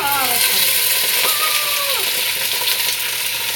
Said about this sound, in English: It's going in. It's going to sizzle a lot.